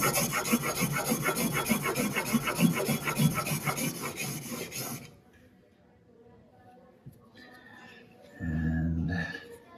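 A blade is rubbed on a whetstone in steady, rhythmic scraping strokes for about five seconds, then the rubbing stops, leaving quiet with a brief unrelated sound near the end.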